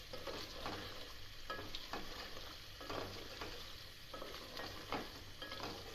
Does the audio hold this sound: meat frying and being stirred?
yes